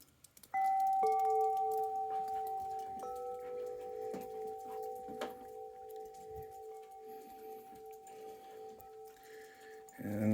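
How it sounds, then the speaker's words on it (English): Wind chimes on a farm porch in snow ring out in clear, sustained metallic tones that overlap and slowly fade, with a few fresh strikes renewing them. "But here's my wind chimes."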